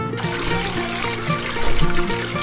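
Oysters are swished and rinsed in warm salt water for kimchi, making close, continuous sloshing and trickling water sounds with small splashes.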